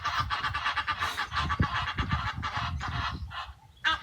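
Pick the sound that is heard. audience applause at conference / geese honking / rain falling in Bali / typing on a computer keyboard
geese honking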